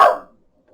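A single short, loud dog bark sounds close by indoors, fading quickly into silence before a faint start of another sound at the end.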